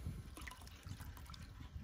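Liquid is poured over a mullein stalk while making a hag's taper, giving a soft, quiet trickle with small splashes and drips, close and gentle.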